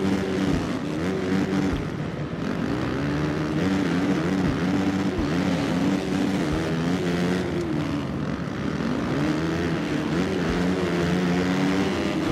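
Steady, droning dirt bike engine in the video game Supercross 3, with pitch rising and falling in waves as the rider revs through a track, loud and continuous with no talk.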